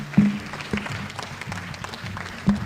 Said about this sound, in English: a round of applause for the women representative, Nairobi County